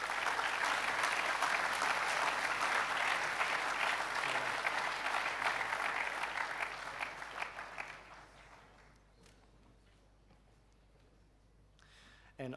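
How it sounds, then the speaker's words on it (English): A crowd at a school assembly claps loudly and continuously for about eight seconds, then the applause fades away into a quiet room with a few scattered claps. "Please give him another round of applause."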